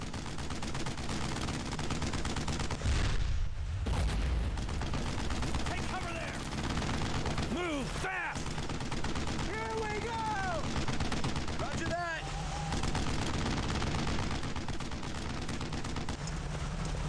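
Gunfire in the World War II shooter Brothers in Arms: Road to Hill 30 crackles throughout, with rapid machine-gun bursts and scattered shots at a steady mid distance, while a player talks over it.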